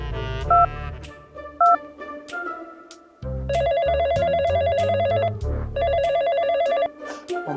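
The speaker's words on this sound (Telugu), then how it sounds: "అబ్బా ఫోన్ రింగ్ అవుతుంది" A mobile phone rings with bursts of electronic ringtone melody, starting after a few short beeps and then repeating in two long loud phrases separated by a brief gap.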